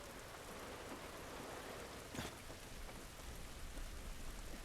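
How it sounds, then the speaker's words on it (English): Steady in-game rain from The Last of Us: a dense, even hiss of rainfall with a brief louder surge partway through, with no voices. "I always really liked the rain, like how the rain functions."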